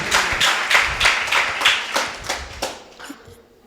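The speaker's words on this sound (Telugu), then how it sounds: "చప్పట్లు కొడదాం, హల్లెలూయా." A church congregation at a Sunday worship service claps in unison, about a dozen steady, rhythmic claps that grow softer and trail off toward the end.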